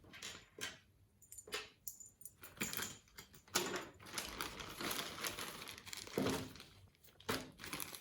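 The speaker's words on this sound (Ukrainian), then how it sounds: "Повертаємо їх в пакетик." Close crinkling and rustling of a plastic bag as small hard MC4 solar connectors are handled and slipped inside, with intermittent clicks and crackles.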